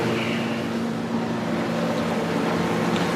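A large 4,500 gallon-per-hour water pump on a 400 gallon bowfront aquarium runs close by, giving a continuous steady hum with a broadband rushing wash and no breaks.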